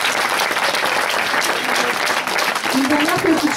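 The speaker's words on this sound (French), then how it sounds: "je vous demande d'applaudir très fort Bérangère Gilbert" Audience at a Miss pageant claps loudly and continuously, a thick wash of applause from a large crowd, with a faint voice rising near the end.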